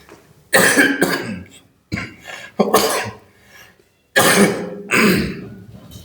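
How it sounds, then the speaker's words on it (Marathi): Several loud, harsh coughing fits close to the microphone, each burst of two or three coughs separated by short pauses. "हे पाणी नको, खोकला येतो कालपासून."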